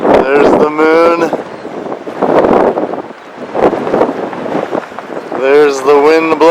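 Wind in the eye of Hurricane Dorian buffets the microphone in loud, rushing gusts that swell and fade, with a person talking at the start and again at the end.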